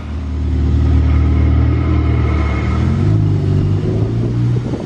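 A supercar passes close by, loud steady engine rumble with a shift in pitch partway through marking a gear change, alone without talk.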